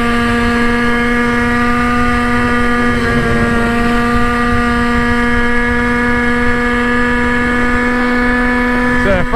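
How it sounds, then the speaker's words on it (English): Goped GTR scooter motor running at speed around 40 mph, a steady loud buzzing drone with strong harmonic tones throughout, wind rushing past and a slight pitch wobble near the middle. "Motor's been running good."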